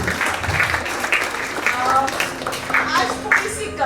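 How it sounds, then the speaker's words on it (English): Audience applause for the class teachers at a school family event, clapping mixed with cheering voices and chatter, moderately loud and uneven. "So a big round of applause for all the class teachers here"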